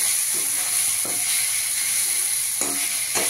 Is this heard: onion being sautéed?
yes